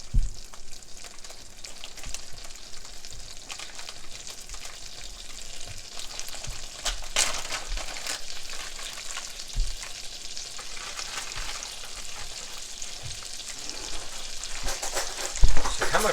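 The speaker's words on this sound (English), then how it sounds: "We got that lemon frying pretty good" Lemon and apples frying in a pan with brown sugar stirred in, a continuous close sizzle with occasional scraping and stirring knocks, no voices.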